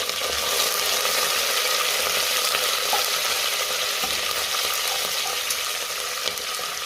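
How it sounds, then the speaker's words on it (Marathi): Green chili, curry leaves and coriander fry in hot oil for masale bhat, a steady close sizzle throughout with faint stirring scrapes. "त्यातच आपल्याला हिरवी मिरची घालायची आहे, कढीपत्ता आणि थोडी कोथिंबीर घातली आहे"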